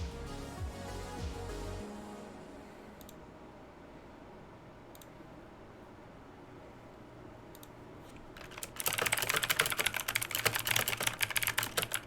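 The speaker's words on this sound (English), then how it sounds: "So I'm typing to share it in here." Typing on a computer keyboard starts faint and sparse, then turns into a dense, loud run of rapid key clicks over a steady background hum.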